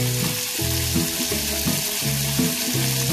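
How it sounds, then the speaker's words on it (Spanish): Eggs hit hot oil with garlic in a pan while making homemade Chinese-style fried rice, giving a loud, steady sizzle and frying crackle. Rhythmic stirring and scraping run underneath, with no voices. "Vamos a agregar los huevos."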